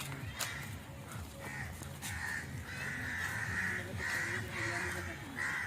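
Crows caw repeatedly at Bokaro zoo, harsh calls arriving in short bursts over a faint outdoor murmur, with occasional distant thuds that could be hooves, and no one speaking nearby.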